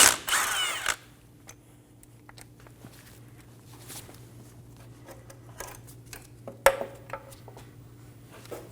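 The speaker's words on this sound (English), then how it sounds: "Using a 14mm socket, remove the bolt for the bracket off the strut." A 14 mm socket wrench removes a bracket bolt from the front strut of a 2008-2015 Scion xB, with a loud ratcheting burst at first, then scattered metallic clicks and taps nearby.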